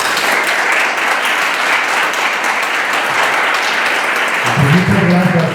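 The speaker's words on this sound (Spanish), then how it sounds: "para quien pido un fuerte aplauso" Loud, sustained audience applause at a film conference, dense clapping filling the whole stretch, with a voice starting to speak near the end.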